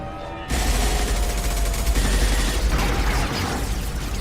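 Gunfire erupts in Mass Effect 2 after a short quiet lead-in, becoming a loud, continuous rattle of rapid shots that blend with mechanical clatter and sustain to the end, with no voices heard.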